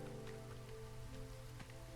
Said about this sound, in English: Oh my god, it's drizzle water.